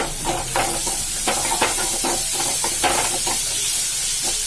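Steady frying sizzle with repeated scraping stirs of a spatula through carrots in a pan, close and continuous.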